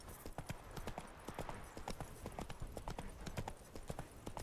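A horse trotting in the Witcher 3 video game, its hooves sounding a quick, even clip-clop rhythm close by and fairly loud, with no voices over it.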